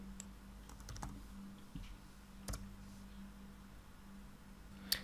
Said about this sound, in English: By going to the command prompt and typing Node-RED.